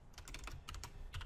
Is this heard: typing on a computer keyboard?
yes